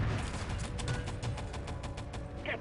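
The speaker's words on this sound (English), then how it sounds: "This is quite a lot of gunfire from this MG." Rapid machine gun fire rattles in a fast, even stream of close shots during an Enemy Territory match, with mechanical clatter underneath and no voices.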